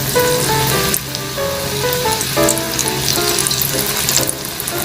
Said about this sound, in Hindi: अब हम इसके अंदर पकौड़े डालेंगे और फ्राई शुरू करेंगे।